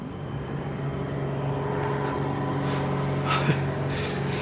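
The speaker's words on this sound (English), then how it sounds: "These fucking planes all day." Airplanes fly overhead during a trip in Alaska, a steady low droning roar that holds throughout at moderate loudness, with a few faint breathy sounds near the end.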